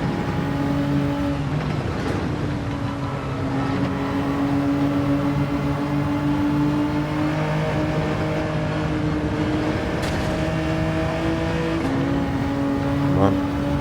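A Honda NSX race car in Gran Turismo 7 on the Nordschleife in changeable weather, its engine droning steadily and close, the pitch rising and falling with throttle, with no talk.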